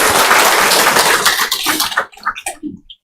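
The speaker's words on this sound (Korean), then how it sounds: "한번 일어서 주시면 큰 박수로 위로해 주시면 감사하겠습니다" A congregation at a church service gives a big round of applause to welcome newly registered members, a dense burst of clapping that thins out into scattered claps and fades within a few seconds.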